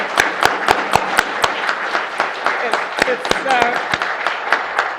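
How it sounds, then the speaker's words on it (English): An audience at an outdoor poetry and barbecue event claps for local poets, with sharp, distinct claps scattered over murmuring voices and chatter nearby. "we need another huge round of applause for these wonderful poets that have come up today"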